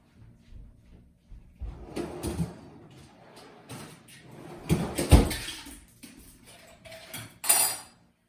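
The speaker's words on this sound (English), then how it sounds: "So here's the ice. Let's put a lot of ice in there." Ice cubes dropped into a mixing glass while building a Martinez cocktail, a series of clinks and rattling clatters, with sharper loud knocks midway and near the end, set against quiet background.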